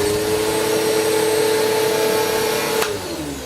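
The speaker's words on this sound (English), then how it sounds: "So that's what the Bissell CleanView swivel sounds like." A Bissell CleanView Pet upright vacuum cleaner runs with a steady, loud motor whine and airflow roar, then its pitch drops suddenly near the end as the machine is tilted back or eased off.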